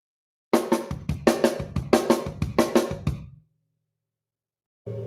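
Drum kit pattern played on two snares and two kick drums, a lively run of sharp snare hits and deep kicks for about three seconds, close and loud, then silence before another hit starts.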